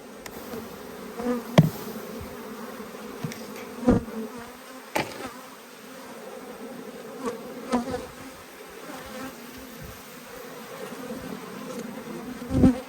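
Honeybees buzz steadily through a beehive inspection below the queen excluder, a dense close hum with scattered louder passes of individual bees near the microphone and a few knocks of frames and hive parts.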